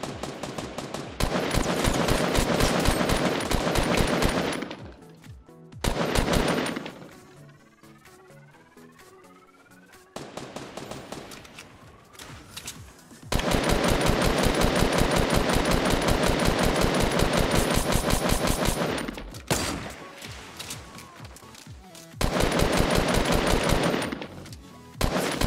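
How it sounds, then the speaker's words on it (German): Rapid automatic gunfire in the Fortnite video game comes in long loud bursts of repeated shots, separated by quieter gaps with softer clicks and effects, with no talking. "ich wurde angeschossen"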